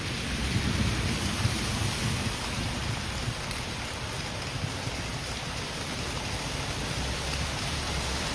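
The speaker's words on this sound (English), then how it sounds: "A truly terrifying storm hit the city." Heavy rain pours steadily and densely during a thunderstorm over a flooded town in Slovakia, with low rumbling thunder rolling underneath throughout. It is loud and close, and no voices are heard.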